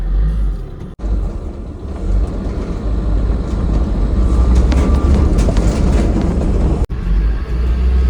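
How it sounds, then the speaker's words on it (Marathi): A small tempo goods truck drives along with a loud, steady engine drone and road rumble from inside the cab, continuous apart from two brief dropouts. "आता चालला टेम्पो चालू केलाय आपण आणि आता टेम्पो घेऊन चाललोय"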